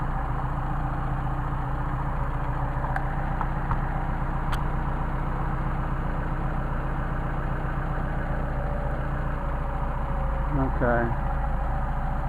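A Mercedes 190SL engine with Solex carburetors idles steadily at low RPM, a continuous rumbling drone that hunts slightly in speed, with a person speaking briefly over it.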